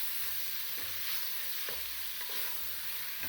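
Mince fries with onions in a pan for cottage pie, a faint continuous sizzle with soft periodic scraping as the spatula stirs, with no voices.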